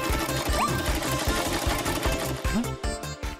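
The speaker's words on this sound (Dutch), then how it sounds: "Mijn naaimachine staat altijd voor me klaar. Ik zal een bouwpak naaien." A sewing machine runs steadily, its fast rhythmic needle clatter close and continuous while stitching a costume piece, with no voices over it.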